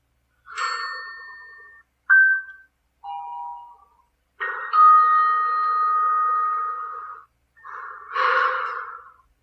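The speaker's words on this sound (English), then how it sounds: "That is the All Lift Chimes WAV file that I recorded" A sequence of recorded elevator chimes: several separate bright electronic ding tones at varying pitches, each ringing out and decaying, with short silences between them, one long sustained tone in the middle.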